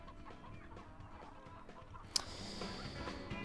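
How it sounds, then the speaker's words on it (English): A large mechanical chicken in the video game Earthworm Jim 3D gives a run of soft, rhythmic clucks, fairly faint in the game mix, with a sharp click partway through. "Whoa, that is a big mechanical chicken thing."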